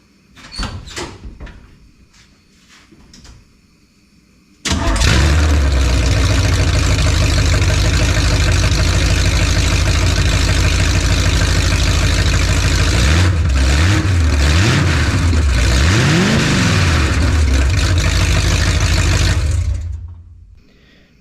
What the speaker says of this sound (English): If you have a vehicle in here with open headers while you're doing exhaust work, you have to start it up with the open headers.